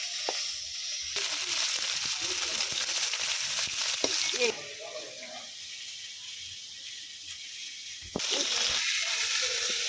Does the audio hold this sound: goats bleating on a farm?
no